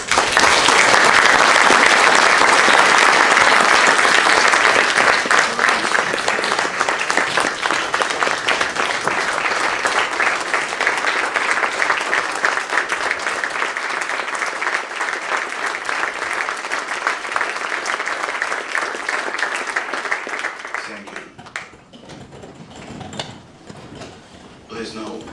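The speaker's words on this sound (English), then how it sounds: "I invite you for a round of applause to Ukrainian hero, our defender, Roman Hartnets." An audience applauds at a documentary film premiere panel honouring a Ukrainian defender: loud, dense clapping for about twenty seconds that gradually thins, then fades into scattered claps and quiet room sound.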